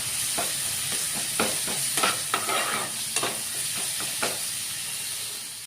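Garlic paste frying in oil for lentil dal, a close, continuous sizzle broken by repeated scraping and clattering strokes of a spoon stirring the pan.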